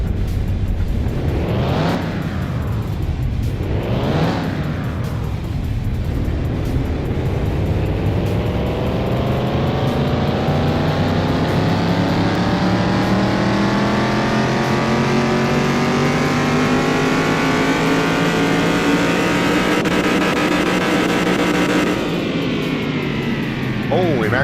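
Chevrolet Camaro Z28 with 360 horsepower and modified exhaust components revving in Car Mechanic Simulator 2021, two quick loud rev blips followed by a long sustained climb in engine pitch that drops off at the end.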